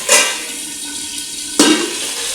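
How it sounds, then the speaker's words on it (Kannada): Hot coconut-oil tempering of mustard seeds, curry leaves and a dried red chilli tipped into cucumber sambar, two sharp close sizzling splashes about a second and a half apart, then a fading hiss. "ತೆಗೆದೀಗ ಒಗ್ಗರಣೆ ಸಾಂಬಾರಿಗೆ ಹಾಕಿಬಿಡುವ."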